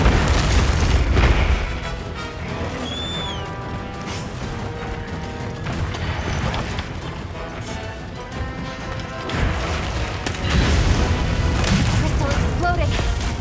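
A crystal bursts in the Monster Hunter game amid heavy booming crashes and rumbling battle noise from the Guardian Dushagama and Guardian Rathalos, a continuous loud din with a sharp rise near the start and again toward the end.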